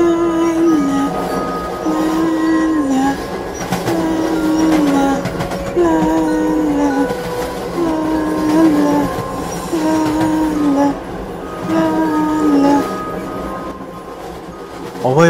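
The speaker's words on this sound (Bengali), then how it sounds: "অভয় অপেক্ষা করছিল যে পরের স্টেশন কখন আসবে, আর সে ট্রেন থেকে নেমে পরের কোচে চলে যাবে" A cartoon train runs along its rails in a horror-themed animated scene, a steady rolling rumble with a rhythmic squeal or whistle-like tone recurring roughly every two seconds, continuous and fairly loud with no talking.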